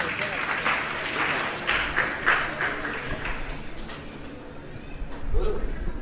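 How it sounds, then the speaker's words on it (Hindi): An audience at a religious discourse event applauds steadily, the clapping swelling and fading over several seconds while voices carry on beneath it. "जोरदार ताली से उनका भी स्वागत।"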